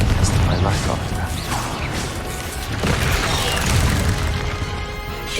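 Spell effects go off in the game Hogwarts Legacy in a dense run of booming blasts, whooshes and crashing impacts that stays loud throughout, with speech mixed in.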